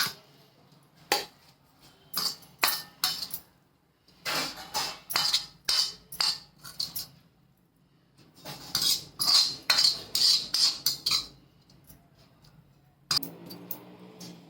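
A utensil scrapes and clinks repeatedly against a pan or bowl while green chilli and tomato thecha is scooped out, coming in irregular bursts of close, sharp metallic taps separated by short pauses.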